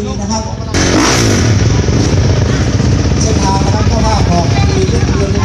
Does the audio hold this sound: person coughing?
no